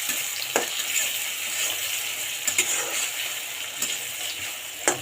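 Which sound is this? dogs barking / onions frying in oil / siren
onions frying in oil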